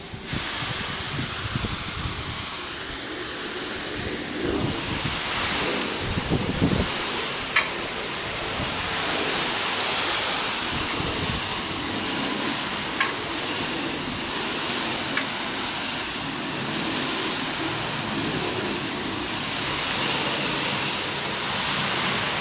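Water sprays hard and steadily from a hose onto old window blinds being washed outdoors, a continuous loud hiss lasting throughout with no voices.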